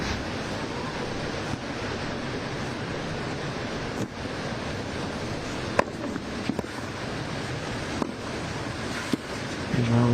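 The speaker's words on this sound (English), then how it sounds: "A real strong gust of wind." A strong gust of wind roars across an outdoor tennis court at the LMP Group East Open, making a steady broadband buffeting with occasional sharp knocks and a louder surge at the end.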